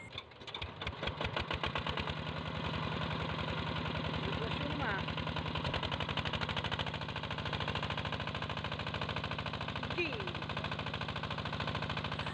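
A weak-pumping household water pump with a faulty motor being test-run, its small engine starting up and then running in a steady, rapid mechanical drone at fairly low level until the end.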